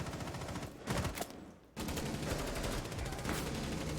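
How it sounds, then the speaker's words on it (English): Rapid gunfire in a competitive esports video game match, with dense bursts of shots and a short lull before the firing resumes and carries on steadily. "Firing off a few shots and leaving."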